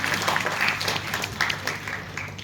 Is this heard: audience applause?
yes